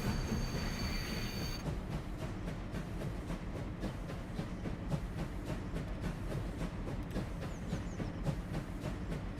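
A train in the video game Farming Simulator 25 rolls steadily along with continuous rumble and rapid, regular clicking of wheels on rail joints, close and even throughout, after a brief high whistle-like tone at the start.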